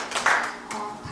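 Brief round of hand clapping from an audience at an education society's annual general meeting, a short burst of claps at moderate level that tapers off after about a second.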